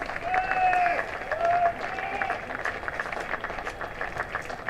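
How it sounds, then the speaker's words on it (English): Cricket crowd at a Gloucestershire v Sussex County Championship match applauding a departing batter, a steady ripple of clapping with crowd murmur from a distance, fading slightly after the opening swell, with a commentator's voice intermittently over it. "John Simpson gets a round of applause as he exits."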